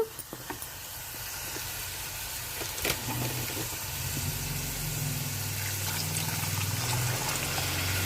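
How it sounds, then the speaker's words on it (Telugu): Water is poured into a pan of raw prawn and drumstick curry with green chillies, making a steady close trickling wash that runs for several seconds with faint kitchen clatter at the start. "వాటర్ అంతా పోయింది కదండి ఇప్పుడు వాటర్ వేసేసుకుందాము"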